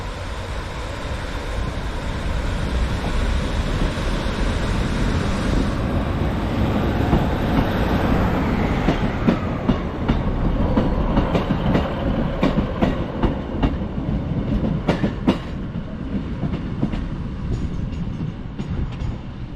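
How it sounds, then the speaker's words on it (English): A heavy freight train departs Preston station, rumbling steadily past, with rhythmic clicking of wheels over rail joints growing more distinct as it gathers pace; no voices. "Off goes the corn train, 1624."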